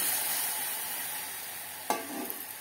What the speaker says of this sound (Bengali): এখানে আমি দুধটা দিয়ে দিচ্ছি